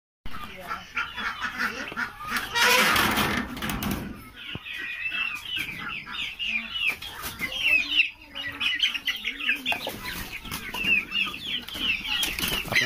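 Local desi chickens clucking and fussing while being fed, with a burst of wing flapping early on, then steady overlapping clucks and calls close by, with a person talking at times.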